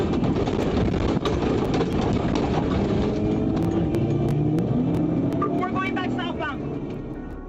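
A car speeds along a turnpike during a police pursuit, a loud continuous engine and road roar with shifting tones, while a voice talks over it and the sound fades slightly at the end.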